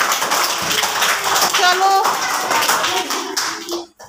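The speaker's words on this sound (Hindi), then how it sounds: "जोर से ताली" Schoolchildren in a government school classroom clap loudly together in a dense, rapid burst of many hands, close and lively, with a teacher's voice speaking over the clapping.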